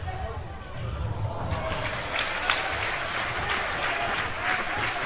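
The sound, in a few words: football crowd applauding England players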